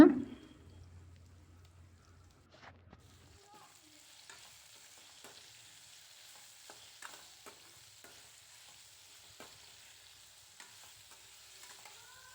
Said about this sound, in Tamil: நல்லா வந்து எண்ணெயில் நல்லா வதக்க விடுங்க